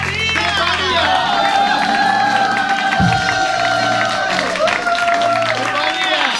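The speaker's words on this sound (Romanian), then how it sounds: "Aplauze pentru..." A live audience claps and cheers at a Romanian entertainment show as two winning contestants are announced, a loud sustained wash of applause and shouting under music, with a presenter's voice over the crowd.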